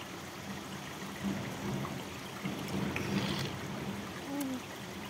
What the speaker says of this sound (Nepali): प्युठानको खबङ खोला हो खबङ खोला